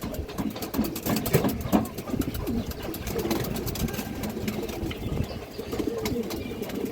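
Many pigeons cooing together in a large loft collection of over two hundred birds, a continuous busy murmur of overlapping coos with a low engine-like hum underneath.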